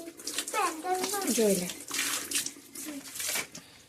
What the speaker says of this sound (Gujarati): પાણી રેડું